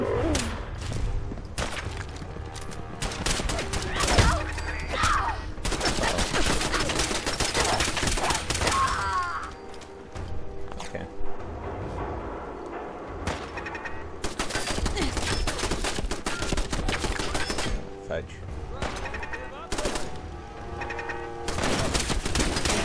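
Repeated bursts of Fallout 4 gunfire crack out in sharp, rapid volleys, loud and close, clustered in stretches with brief lulls between them, with no talking over the shots.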